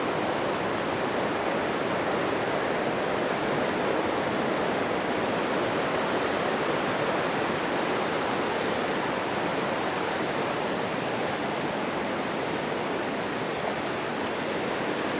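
Waterfall at Ousel Falls in Big Sky, Montana, on the South Fork of the West Fork of the Gallatin River, roaring as a steady, dense wash of falling water that holds close and loud for the whole stretch with no voices.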